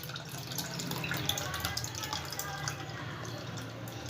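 Food is washed in water in a bowl, with steady close splashing, trickling and dripping sounds and a faint voice in the background.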